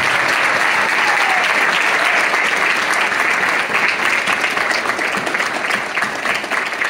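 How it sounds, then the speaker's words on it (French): An audience at a French writers' weekend event claps steadily, producing a dense, sustained round of applause heard up close throughout. "Vous êtes vraiment timide dans vos applaudissements."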